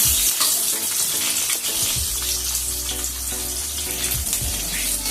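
Nigella seeds and green chillies sizzle in hot oil for a hilsa fish jhol, a loud, steady, close hiss and crackle that runs unbroken throughout.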